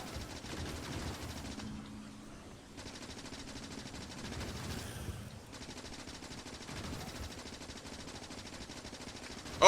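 A gun turret in Factorio fires steady, rapid automatic bursts at enemy bases, with a dense crackling rattle that briefly thins out and then resumes for the rest of the stretch.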